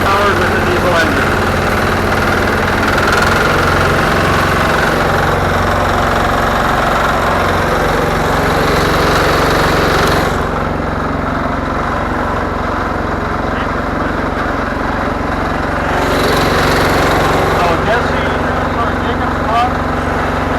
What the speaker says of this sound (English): Here's tractor that's also been repowered with a diesel engine.